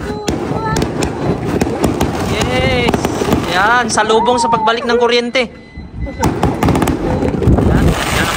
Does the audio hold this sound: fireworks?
yes